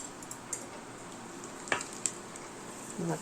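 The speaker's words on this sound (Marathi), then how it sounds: "जे ताक होतं ना त्या ताकामध्ये आता मिक्स करून घेते" A hot tempering is stirred into buttermilk for kadhi, making a faint sizzle with soft, scattered clinks and scrapes of a spoon against the pot, quiet and without talk.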